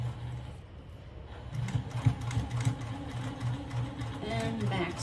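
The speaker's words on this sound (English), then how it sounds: "Let me start to sew and back stitch." Sewing machine stitching and back-stitching fabric seams for a beginner's shoulder bag, a steady low mechanical whir running close and continuous throughout.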